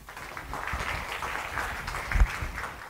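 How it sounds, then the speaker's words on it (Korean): A crowd applauds steadily for a few seconds, a dense, even wash of clapping hands at moderate volume, as a lecture audience welcomes a speaker at KAIST. "큰 박수로 모시도록 하겠습니다"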